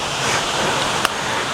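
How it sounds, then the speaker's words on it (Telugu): A waterfall in the Araku forest roars as a steady, dense wash of rushing water that fills the whole clip, with one brief sharp click near the end. "సో మీకు వినిపిస్తుందా వాటర్ ఫాల్ సౌండ్?"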